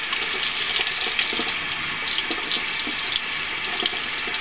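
Water runs steadily from a household tap into a sink or container, a continuous close gushing hiss that holds level throughout with no voices.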